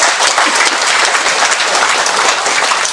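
Loud, dense applause from an audience at a thanksgiving Mass celebrating a priest's 50 years of priesthood, a steady wash of many hands clapping that fills the whole stretch without a break.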